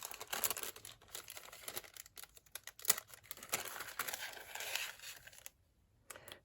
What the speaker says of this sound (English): I do love the crinkly sound that you get from this paper